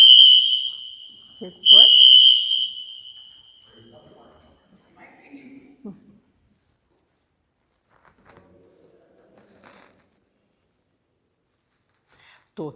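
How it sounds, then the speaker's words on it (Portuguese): A loud electronic alarm blares in an art museum, a steady high-pitched tone in two bursts during the first few seconds, followed by quieter talk and gallery murmur. "Tocou aqui um alarme muito grande"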